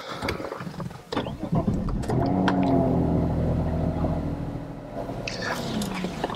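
Saab 9-5 with a 3.0 V6 turbo engine pulling away after a few mechanical clicks, its engine note rising into a steady, moderately loud drone heard from inside the car.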